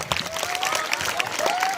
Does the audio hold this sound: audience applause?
yes